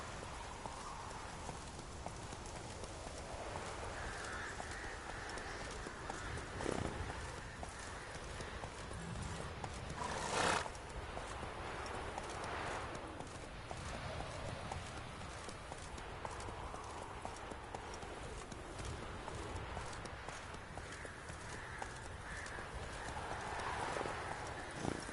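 A horse gallops in The Witcher 3 video game with steady, rapid clip-clop hoofbeats over a soft background of rain, and a single louder thump partway through.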